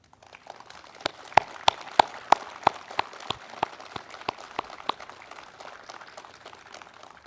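An audience applauding at the 101st March 1st Independence Movement Day ceremony in Korea, a spread of claps from a crowd at a moderate distance, with a few sharper nearby claps standing out over a steady patter.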